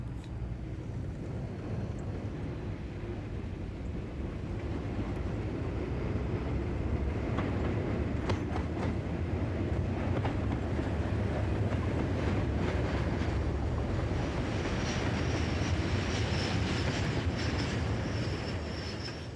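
A heavy petroleum freight train of about 1,600 tonnes hauled by a single Class 37 diesel locomotive, a steady loud rumble of engine and rolling wagons with faint clicking and some brief wheel squeal, no talk.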